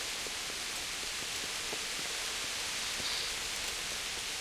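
Steady rainfall in the medieval video game Kingdom Come: Deliverance makes an even, continuous hiss with faint scattered drop ticks and no voices.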